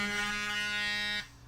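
A loud electronic timer gives a steady harsh buzz for just over a second, then cuts off into quiet room tone, with no talk.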